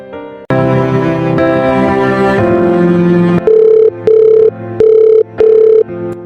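Music fades into a phone's ringback tone, four even, loud beeps with short pauses between them, with no speech.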